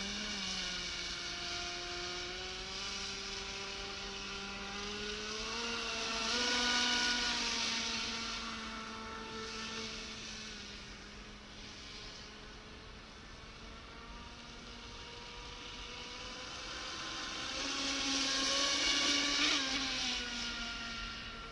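The motor of a Navicraft Rebel 12s RC boat whines at half throttle, a steady high pitch that swells and fades twice as the boat passes nearer and farther away.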